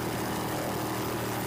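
A helicopter films an offshore powerboat race in rough water, its steady engine and rotor drone loud and continuous throughout.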